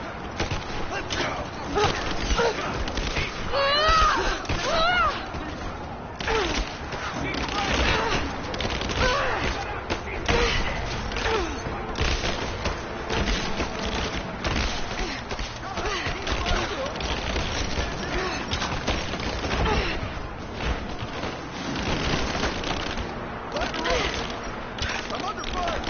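Steady, dense gunfire and distant booms in a Rise of the Tomb Raider firefight, continuous and fairly loud under intermittent shouted game dialogue.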